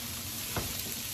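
Peppers and onions cook in garlic butter with a soft, steady sizzle and one brief stir or scrape near the middle.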